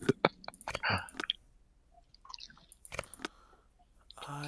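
Crunchy food being chewed close to a microphone during a Nancy Drew game session, a series of sharp wet crunches and clicks in irregular bursts with quiet gaps between.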